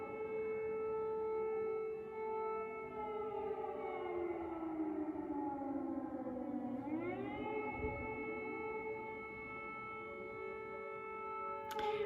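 Air raid siren wailing in Ukraine late at night, a long sustained rising and falling tone heard from a distance outside a room, steady and continuous with no talking.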